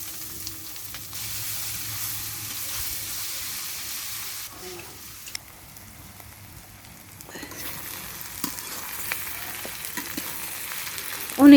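Papaya with egg frying in a pan on a rainy day sizzles softly and steadily, with occasional stirring clicks and scrapes, a brief lull midway, and a louder knock at the very end.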